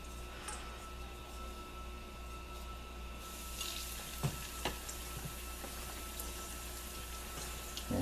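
Already-cooked gluten-free andouille sausage on lollipop sticks fries in a wok-type pan to crisp the outside, giving a steady low hiss with a few faint pops and clicks.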